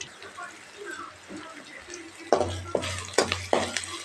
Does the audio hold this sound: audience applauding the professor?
no